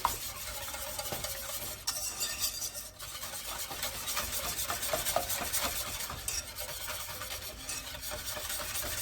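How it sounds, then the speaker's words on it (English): A spoon steadily stirs a spiced pumpkin mixture in a pot, producing a continuous close scraping and rubbing that lasts the whole stretch with a faint simmering hiss underneath and no speech. "So let's give this a mixture here, get it all incorporated."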